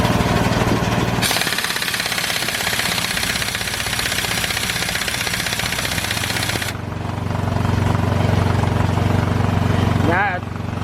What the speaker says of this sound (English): If you got a wheel lock and you're using an air gun like I am